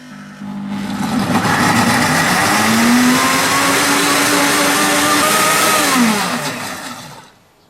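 A kitchen food processor blends tomatoes into juice, its motor spinning up after a short start, holding a loud steady whir with a slightly shifting pitch for several seconds, then winding down to a stop.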